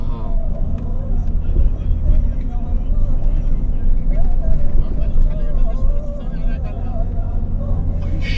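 A steady, loud low rumble of road and engine noise from inside a moving car continues throughout, with people talking over it.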